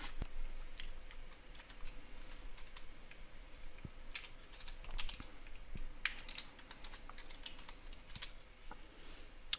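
A name is typed on a computer keyboard during a Windows 7 install, with irregular, fairly quiet key clicks tapping in quick bursts against a faint background hum.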